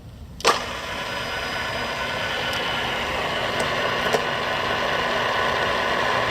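An Arboga 40-inch by 9-inch radial arm drill, model RLM3508, runs with its spindle feeding down. A sharp click opens a steady mechanical hum, and faint ticks surface now and then.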